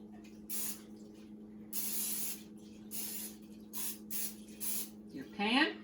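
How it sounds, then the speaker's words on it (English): Cooking spray coats a baking pan for pumpkin bread in several short, close hissing bursts of uneven length, with a voice speaking briefly at the end. "you want to just lightly spray"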